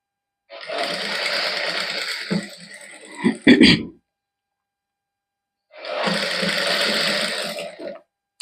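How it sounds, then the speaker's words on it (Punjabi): An electric sewing machine stitches lace onto a garment sleeve, whirring steadily in two close runs of a few seconds each, separated by a brief clatter and a pause. "ਇਹਦੇ ਉੱਪਰ ਸਲਾਈ ਲਾ ਦਈਏ"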